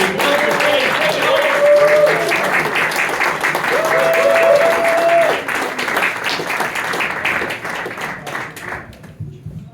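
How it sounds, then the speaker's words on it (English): An audience at an evening event claps, whoops and cheers together, with loud dense clapping and high sustained whoops rising over it before the noise gradually dies down. "start clapping and whooping and cheering"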